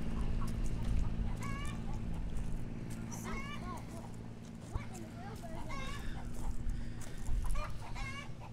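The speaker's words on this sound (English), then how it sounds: "It's a chicken." Chickens cluck and crow in repeated short calls on a Georgetown, Texas farm, heard close amid a low steady hum and background murmur.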